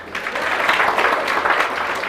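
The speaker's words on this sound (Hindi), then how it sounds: "बहुत अच्छा, एक बार ताली बजा दीजिए।" An indoor audience gives a short burst of applause on request, dense and steady clapping from a crowd that holds for about two seconds.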